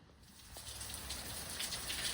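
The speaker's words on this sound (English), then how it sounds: "It's been raining like this since yesterday afternoon." Steady rain pours down outside on a patio in South Florida, a continuous dense hiss of drops hitting the surface that holds evenly loud throughout, with no voices.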